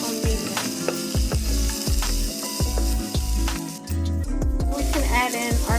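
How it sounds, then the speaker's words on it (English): Minced garlic sautés over medium heat in a pan, a steady crackling sizzle partly masked by a rhythmic, low thumping beat running underneath. "we're going to add in our minced garlic. Let that saute 1 minute"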